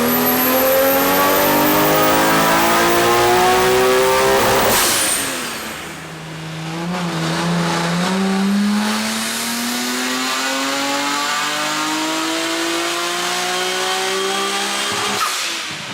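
Two tuned Nissan Skyline GT-Rs, an R34 and an R32 of around 650 horsepower, drag racing on an airstrip: loud engine revving climbing through the gears with a brief lull at a shift, then pulling hard again, no talk.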